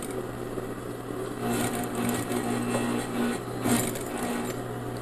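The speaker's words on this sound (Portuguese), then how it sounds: "Vou costurar mais um pedacinho aqui." An industrial sewing machine stitches bias binding onto fabric for a Christmas trivet, a steady close mechanical hum with rapid needle chatter rising and falling in short bursts, with no talking.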